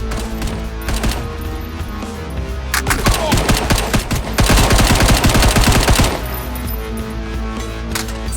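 Rapid bursts of gunfire from the VR shooter Hard Bullet, louder dense volleys peaking in the middle with steady rattling shots around them, with faint voices in the background.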